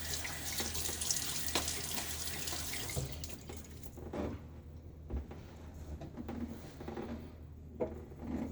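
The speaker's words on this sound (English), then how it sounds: "water on my face" Tap water runs and splashes as water is scooped onto a face during a wet shave, a steady close faucet stream with intermittent splashes and small knocks, no voices.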